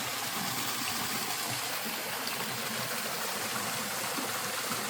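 A small waterfall in a creek along a swamp forest trail near Tallahassee gives a steady, close rush of splashing water that holds constant with no other sounds.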